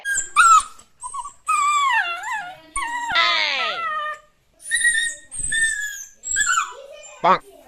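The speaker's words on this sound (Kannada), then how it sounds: "ನಿಮ್ಮ ಅಮ್ಮ ಮನೆಯಲ್ಲಿ ಇದ್ದಂತಹ ನಾಯಿ ಮರಿ ತುಂಬಾ ಚೆನ್ನಾಗಿದೆ" A puppy whimpers and whines in several rising, wavering cries that stop and start over about eight seconds, close by, while it waits to be fed at home.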